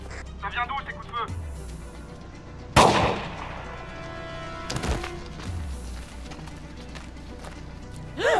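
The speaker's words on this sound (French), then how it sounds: "Ça vient d'où ces coups de feu?" Two loud, sharp gunshots ring out a couple of seconds apart, each with a brief echoing tail, amid background movement and voices.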